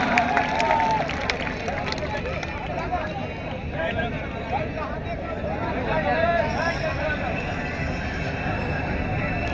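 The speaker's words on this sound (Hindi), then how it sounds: "जोरदार तालियों से इस्तकबाल कीजिए" A large crowd at an evening mushaira in Mumbra applauds to welcome a poet onstage. The clapping is dense and steady, mixed with crowd murmur and voices throughout.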